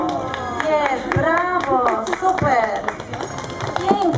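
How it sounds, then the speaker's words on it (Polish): Children clap after a vinegar-and-baking-soda style volcano eruption at a science day event, the claps scattered and close, mixed with excited children's voices talking and shouting over them. "Brawa, ta brawa"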